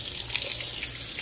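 Hot water running from a tap into mushroom pellet substrate, a steady, close, hissing splash of pouring water throughout, with no voices.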